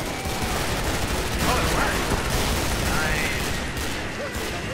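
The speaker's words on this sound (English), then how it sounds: "I think that was me shooting it like a million and four times" Rapid, sustained gunfire from the Killing Floor video game blasts almost continuously, loud and dense, with players talking over the shooting in a co-op match.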